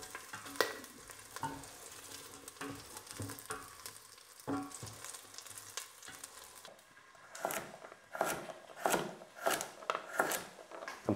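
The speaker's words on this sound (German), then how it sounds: "Und hier hinten im Topf brutzelt schon meine Chorizo." Chorizo sizzling and frying in a pot, with a soft steady crackle broken by scraping stirring strokes that grow louder and more rhythmic toward the end.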